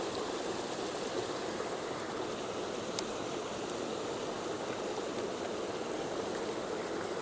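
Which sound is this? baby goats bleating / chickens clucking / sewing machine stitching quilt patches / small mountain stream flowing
small mountain stream flowing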